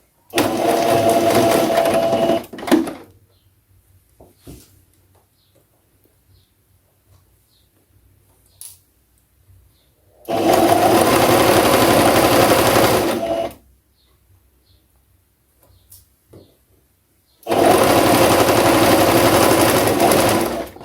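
A sewing machine stitches the darts of a blouse in three loud, steady bursts of a few seconds each, with quiet pauses and small handling clicks between them.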